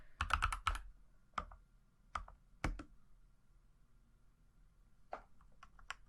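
Someone types a short keyword on a computer keyboard. Several quick bursts of crisp, close key clicks are separated by brief pauses in an otherwise quiet room, with no voices.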